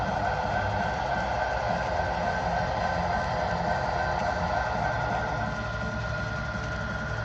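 A CN model train runs on a small loft layout, producing a continuous rumbling hum with a steady mechanical whir, even and close, with no break in the sound.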